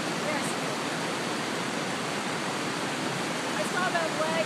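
Flood water rushes steadily at Devil's Backbone, Maryland, during the 2012 flood, giving a constant broad roar from start to finish. Faint voices may sit beneath it.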